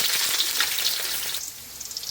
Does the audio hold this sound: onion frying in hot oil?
yes